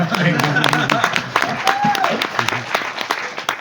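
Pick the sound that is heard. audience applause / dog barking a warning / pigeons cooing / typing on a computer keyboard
audience applause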